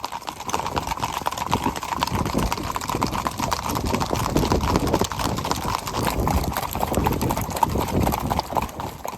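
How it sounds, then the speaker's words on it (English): A solid chestnut gelding being ridden while driving a herd, hooves clip-clopping in a steady, continuous rhythm close by, with faint outdoor background and no speech. "I spent all of today mounted up on a solid chestnut gelding named Pan"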